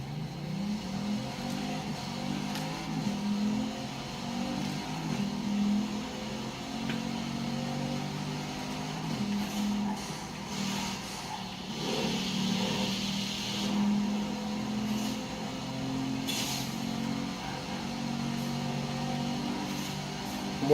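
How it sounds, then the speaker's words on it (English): A Bugatti Chiron in Forza Horizon 4 drones through a top speed run, its engine a sustained, fairly faint roar with slowly rising pitch and occasional gear-change dips. "here's the top speed run of my Chiron now"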